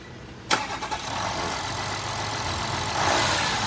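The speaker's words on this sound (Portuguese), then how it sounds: "a gente desligou a correia aqui. Ele vai funcionar, você vai ver que a correia não funciona. E que o barulho persiste" Volkswagen Amarok engine running with its drive belt removed and pulleys stopped, a steady mid-pitched idle after a sharp start-up burst, close and continuous, with a faint persistent mechanical noise and no talk.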